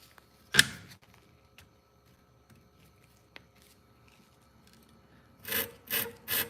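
Scissors being sharpened on a scissor sharpener: a few isolated scrapes and taps, then three quick rasping strokes in a row near the end, close and moderately loud against a quiet background.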